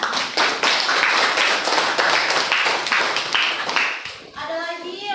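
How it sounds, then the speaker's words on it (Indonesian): A classroom of students claps together in a rhythmic, fairly loud run of even beats for about four seconds, then stops as a voice speaks briefly. "Tepuk tangan."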